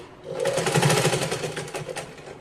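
A sewing machine runs in one steady, close burst of rapid stitching while sewing a baby's cotton frock, loud and uninterrupted.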